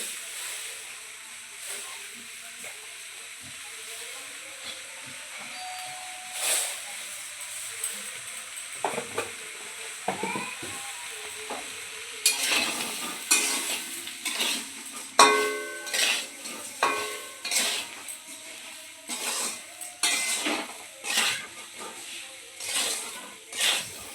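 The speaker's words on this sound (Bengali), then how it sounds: "ভালো করে ভেজে নেব" Mango pickle sizzles and fries in a pan while a spoon scrapes and stirs it, with clattering of utensil against the pan growing busier and louder in the second half.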